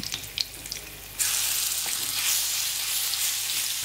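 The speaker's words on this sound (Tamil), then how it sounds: "1 டீஸ்பூன் இஞ்சி பூண்டு விழுதை ஆட் பண்ணிக்கோங்க." Ginger garlic paste dropped into hot oil in a pan for egg curry, a few light clinks and stirring sounds and then a sudden loud, steady sizzle that continues to the end, with no talking.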